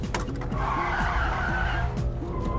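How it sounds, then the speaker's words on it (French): A car brakes hard and its tires skid and squeal loudly, a sustained screech over a steady roaring engine, close and continuous with no talk. "son chauffeur écrase brutalement les freins"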